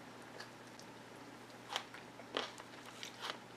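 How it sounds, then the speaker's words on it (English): A baked onion being bitten and chewed, with a few soft, close crunches spaced about a second apart over a quiet background. "I just want to get to the onion so that I can taste it."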